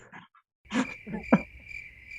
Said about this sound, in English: Crickets. Where's my crickets button?